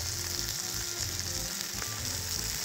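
Chicken in tomato sauce with white beans stirred and fried in a pan, a steady close sizzle and crackle of frying that runs unbroken throughout with no talk over it.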